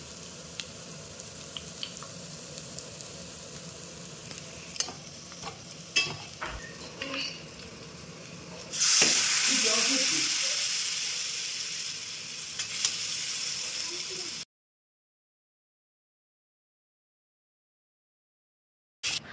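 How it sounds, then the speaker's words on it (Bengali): Salt and turmeric hitting hot oil for a vegetable dal, starting as faint stirring and scattered clinks, then a loud, steady sizzle bursting in that gradually eases for several seconds before cutting off. "তার জন্য তেলে অল্প একটু লবণ আর হলুদ আমি দিয়ে দিচ্ছি।"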